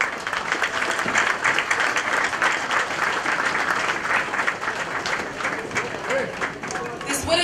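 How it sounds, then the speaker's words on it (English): Audience applause at a Micronesian celebration following a song: dense, sustained clapping from a crowd, loud and steady throughout, with a few voices mixed in. "Please let us give them another round of applause for the beautiful song."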